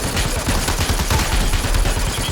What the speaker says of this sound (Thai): น่าจะไม่ใช่ไม่ใช่ปืนหนัก เป็นปืนเบา ยิงมา